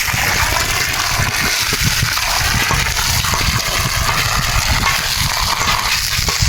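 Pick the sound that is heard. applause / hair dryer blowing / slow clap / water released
water released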